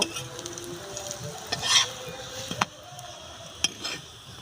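Steady oily sizzling of a paratha frying in white oil on a hot griddle, with a few soft clinks and scrapes of a utensil against the pan.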